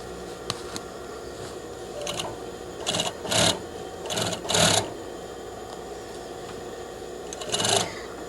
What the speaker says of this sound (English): While stitching, you must also be aware that your garment is between the needle and the back of the sewing machine